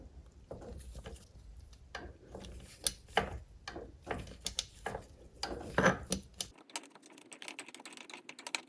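A ratchet and socket turning a tight bolt on a Mercruiser Alpha One outdrive, giving quiet, close, irregular clicks and metallic scrapes, followed by a softer run of rapid ratcheting ticks.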